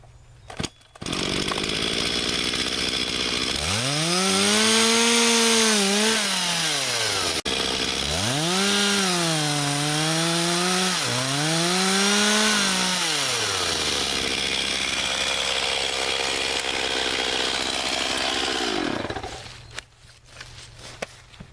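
A chainsaw cutting a sink cut into a heavily leaning tree during a dog tooth felling cut, loud and close, revving up and down through several long bogging surges before idling off and stopping, with no speech.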